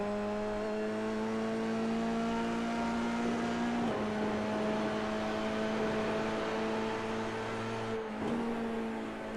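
Formula 3 race cars at Zandvoort in a sim racing game, a steady high engine whine holding pitch with two abrupt gear shifts, continuous and fairly close.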